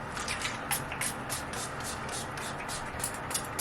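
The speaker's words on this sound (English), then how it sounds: "Now that I've just sprayed that into my hair" Short hissing bursts of a spray bottle misting water onto type 4 hair, repeated in quick succession at a steady rhythm, close and fairly quiet.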